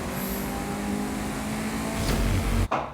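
Engine drone of a car racing along a Hot Wheels track in Forza Horizon 5, a steady, moderately loud hum held throughout and cutting off abruptly near the end, with no voices.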